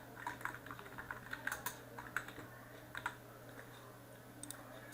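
Keys on a computer keyboard being typed in quick, irregular bursts while text is entered in Adobe Illustrator, fairly faint over a steady low hum, with no voices.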